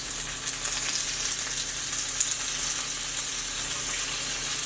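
Tofu slices dipped in sauce sizzle steadily in an oiled pan, a continuous close frying hiss with no talking.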